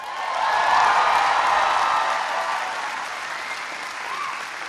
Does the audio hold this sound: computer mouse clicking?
no